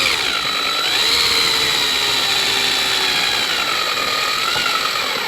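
A power drill drives screws to assemble a pre-drilled mold, whining loudly and continuously up close with slight shifts in pitch as it runs.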